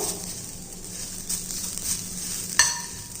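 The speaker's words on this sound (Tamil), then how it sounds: "இதை வந்து நம்ம கடாயில் போட்டுக்கிடுவோம் இதை நல்லா வதக்கிக்கிடுவோம்" Grated coconut stir-fried in a kadai, a soft steady sizzle with scraping stirs and a sharper clink of the spoon against the pan near the end.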